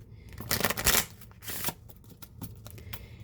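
Playing cards being shuffled at close range in a few quick riffling bursts with short pauses between them, no talking.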